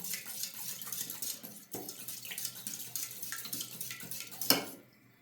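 Lemon, yogurt and egg are whisked in a bowl for chicken soup, a rapid, steady clatter of a utensil on the bowl close by, ending with one sharp knock before quiet.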